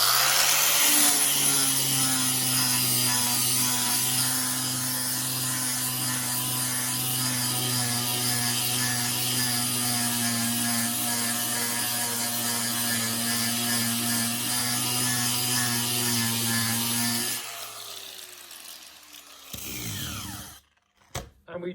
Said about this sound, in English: So what we do is get the angle grinder